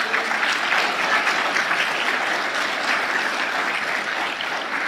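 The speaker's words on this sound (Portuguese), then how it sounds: "Vamos aplaudir o Senhor." A church congregation claps for the Lord during a Portuguese-language sermon, with loud, dense applause filling the room evenly for nearly five seconds.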